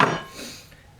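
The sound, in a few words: hammering nails into wood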